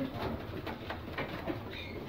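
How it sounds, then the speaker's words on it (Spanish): A prize-winning racing pigeon in a loft coos in soft, low repeated pulses, close by and fairly quiet amid light background noise, with no talk heard. "Paloma con premio aquí."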